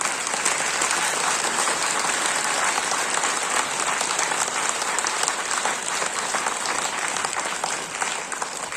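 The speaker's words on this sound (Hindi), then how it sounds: "Please, we give her a big clap." An audience at an event applauds steadily, a dense continuous patter of many hands clapping at even loudness throughout, with no voices over it.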